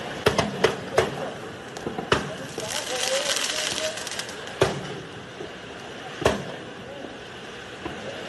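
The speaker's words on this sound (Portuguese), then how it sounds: "um vídeo para mostrar a vocês dessas explosões, né, do carro aí no estacionamento" Explosions from fireworks inside a car in a parking lot at the Chamber of Deputies, Praça dos Três Poderes: a string of sharp, loud bangs and pops at irregular intervals, some in quick bursts, with crackling and a faint background murmur between blasts.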